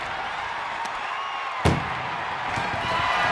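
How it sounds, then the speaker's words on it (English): An ambulance door slams shut once with a sharp, loud impact during a wrestling match, set against a steady crowd roar from the arena. "Look at the struggle just to shut that first door."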